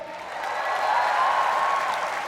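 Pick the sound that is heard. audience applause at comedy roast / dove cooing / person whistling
audience applause at comedy roast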